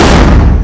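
A Diwali firecracker bursts close by in a family celebration, a loud, dense blast of noise that fills the short moment and starts fading toward the end, with no talk over it.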